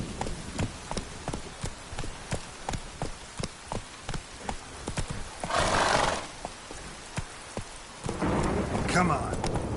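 A horse in Witcher 3 gallops with a steady clip-clop of hooves and neighs loudly in two bursts, with rain and distant thunder in the background.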